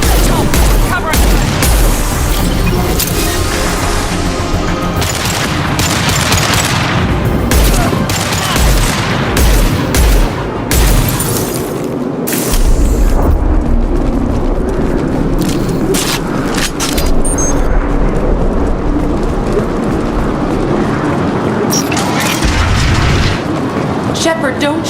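Heavy gunfire and explosions from a firefight in the video game Mass Effect 2, with dense bursts of shots and booms running loud and continuous throughout, voices speaking over the combat at times.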